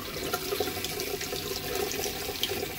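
Hot water runs steadily from a tap during a camper-conversion plumbing test, a continuous splashing hiss into a sink with no talking.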